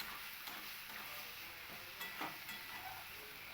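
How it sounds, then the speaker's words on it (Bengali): Shredded cabbage and onions are stirred in a pan over medium heat to dry out, with faint, soft scrapes and a low sizzle heard close by. "এবার এইভাবে আমি নাড়াচাড়া করতে করতে বাঁধাকপিটাকে কিন্তু আমি একটু শুকিয়ে নেব"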